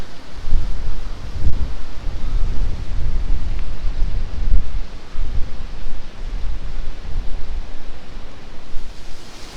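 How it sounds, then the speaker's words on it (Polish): Water pours down from above beneath a rock overhang near Baños, Ecuador, a steady, loud rushing wash with low rumbling that persists without a break and no voices. "Pod skałami tutaj gdzieś leje się woda z góry."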